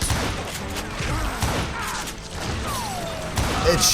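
Rifle gunfire in the Western shooter Call of Juarez: Gunslinger, several sharp shots and booms scattered through a busy game mix with clatter and impacts, steady and fairly loud throughout.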